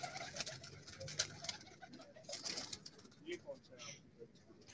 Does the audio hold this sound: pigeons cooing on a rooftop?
yes